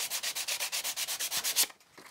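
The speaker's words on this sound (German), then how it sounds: "dann lege ich das Schleifpapier drum und dann wird das Ganze mal ordentlich kurz von der Frontseite der Bohrung abgeschliffen" Sandpaper wrapped around a wooden block rubbed over the front of a drilled hole in wood, a brisk run of about a dozen even back-and-forth scrapes close to the mic, then stopping.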